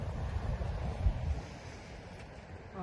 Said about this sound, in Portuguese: Chegamos no mar, chegamos na praia